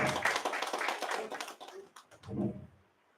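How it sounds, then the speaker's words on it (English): Conference attendees at an international technology conference clap for a presenter, a moderate burst of hands that thins into a few scattered claps and fades, with a short murmur of voice near the end. "Give her a big round of applause."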